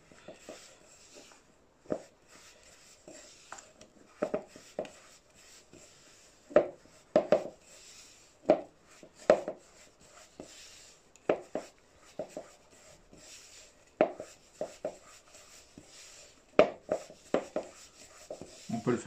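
Choux pastry dough with praline is mixed by hand, irregular scraping and thudding strokes of a spoon against a bowl, close and intermittent over about twenty seconds.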